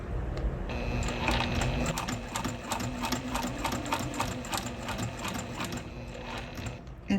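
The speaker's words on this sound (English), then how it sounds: "that should really make it easier to get it through the sewing machine" A sewing machine stitches a vinyl strap, its needle running in a steady rapid rhythm of close, loud mechanical clatter with a constant motor hum underneath.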